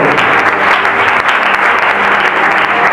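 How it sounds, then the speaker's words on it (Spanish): A church congregation at a Spanish-language sermon applauds loudly and steadily, a dense, continuous wash of many hands clapping close by. "Aplauden fuerte a tu Dios"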